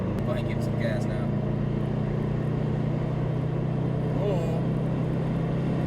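A Subaru WRX STI under throttle, a loud steady low engine drone heard from inside the car, with a man briefly exclaiming over it.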